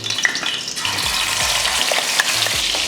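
Ground onion-chilli paste sizzles steadily in hot oil for an Andhra-style chicken gravy, with a bright continuous frying hiss and a few low scraping stirs underneath.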